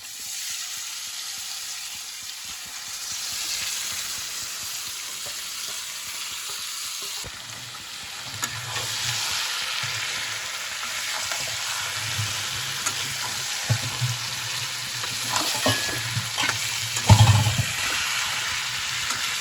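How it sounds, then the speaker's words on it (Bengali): Marinated mutton fries with fried onions in a pan for mutton kosha. A faint low sizzle swells into a louder, steady sizzle once the meat goes in, with occasional stirring clatter close by. "এবার এর মধ্যে আমি দিয়ে দেবো এই ম্যারিনেট করে মাংসটা"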